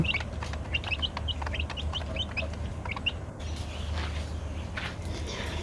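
Young chickens give a string of short, high clucks and chirps in quick bursts, close by over a low steady background hum, and the calls stop partway through.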